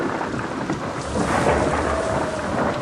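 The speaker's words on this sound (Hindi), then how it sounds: "एक तेज की बिजली कड़की" Heavy rain pours steadily while deep thunder rumbles and swells, a dense, loud stormy backdrop for a horror story with no voices.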